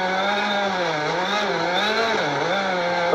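A rally car engine runs steadily at moderate revs on a cooling lap at the 2023 Martinique Rallye Tour, a continuous loud drone with a gently rising and falling pitch and no voices.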